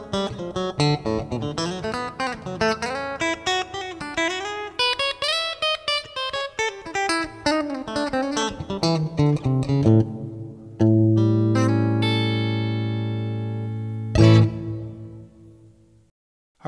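Fender USA Telecaster electric guitar with active EMG pickups, a clean picked melodic run followed by sustained ringing chords and a final strum that decays to silence, close and clear with no talking.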